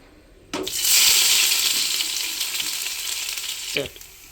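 Ginger and garlic hit hot oil with a sudden loud sizzle that spreads into a steady bright hiss, then settles slightly as stirring clinks and scrapes near the end; no voices.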